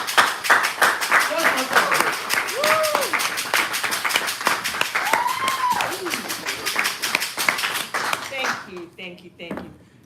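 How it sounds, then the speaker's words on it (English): Rhythmic group clapping at a Toastmasters meeting as Toastmaster Barbara is welcomed, fairly close, with voices calling out over the clapping before it tapers off near the end. "That applause was for our president."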